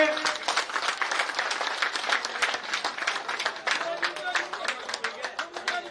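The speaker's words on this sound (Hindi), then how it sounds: "सभी तालियों से स्वागत करेंगे" Applause from an audience at an outdoor political gathering under a tent, welcoming Gajendra Singh Shekhawat: a dense, steady patter of many hands clapping at moderate distance, with voices mixed in.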